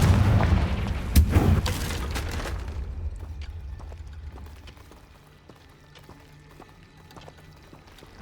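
A Confringo fire spell blasts in Hogwarts Legacy, a loud, booming burst with a heavy low rumble over the first couple of seconds, then fading into a quiet tail.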